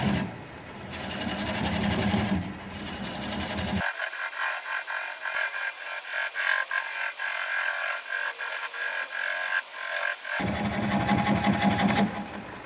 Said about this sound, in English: Now I'm going to apply the bevel of the gouge against the bottom of the bowl.